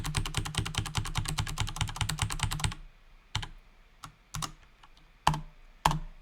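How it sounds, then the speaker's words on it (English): Rapid, dense mashing of computer keyboard keys for a few seconds, then several separate sharp keystrokes spaced out, close and clear with no voices. "I'm gonna mash keys"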